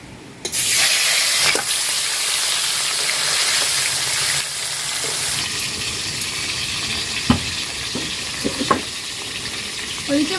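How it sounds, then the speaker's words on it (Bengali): Snakehead fish pieces drop into hot mustard oil in a wok and erupt into a loud, close, continuous sizzle and hiss that settles slightly over time, with occasional clinks and pops. "এবার মাছগুলো ভেজে নেব।"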